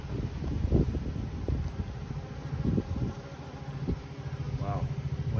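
Soft, steady buzzing of honey bees at an opened hive, mixed with light wind and handling noise, with a voice speaking briefly.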